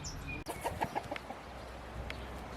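Chickens cluck at a fenced chicken coop with a series of close, soft, irregular clucks after a sharp knock, set against steady outdoor background noise.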